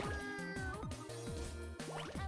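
A cat meows repeatedly in Katamari Damacy, a series of short, close, tonal mews with rising and falling pitch, sounding alone without talk.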